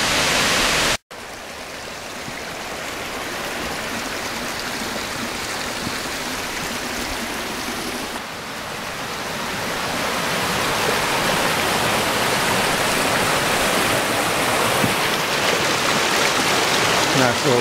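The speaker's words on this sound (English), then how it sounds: "Nice little creek flowing into Dodge Creek." A steady rushing of flowing water fills the clip, a broad even wash of a small creek flowing into Dodge Creek on the Raven Cliffs Trail, with a brief dropout near the start.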